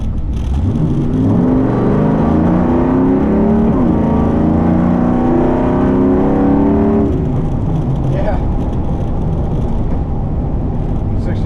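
A throaty 1966 Chevelle pro street muscle car engine roars continuously, climbing in pitch through the gears, with a shift midway and a brief dip before the rumble carries on.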